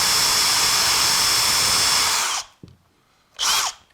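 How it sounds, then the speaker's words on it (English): Power drill spinning a wire brush attachment against copper heating pipe, a loud continuous whirring grind that stops abruptly, followed by one short burst after a pause. "I've got a little wire brush on here that will just go round and round and round."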